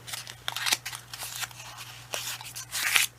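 Small scissors snip through paper during a spring-themed paper craft, several quick crisp cuts in uneven bursts, close and fairly quiet with no talking.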